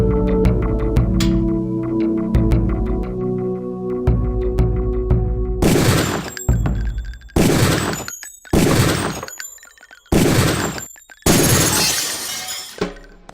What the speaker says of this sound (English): And aim before shooting this time.